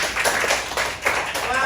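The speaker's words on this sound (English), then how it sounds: "I'll give him a clap, class." A class of students claps together during a science lesson, a dense, uneven patter running under a voice that talks over the whole burst.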